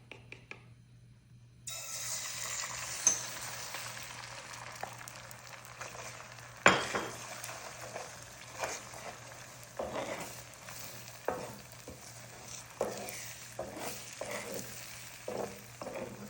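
An egg fries in olive oil in a pan, starting after a short quiet moment, then a soft, steady sizzle runs under repeated scraping stirs and occasional clinks of the spatula, one sharper knock standing out.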